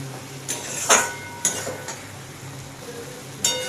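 Apple pickle (achar) being stirred as it cooks in a pan, with a few scattered scrapes and clinks of the spoon against the metal over a faint, low background. No one speaks.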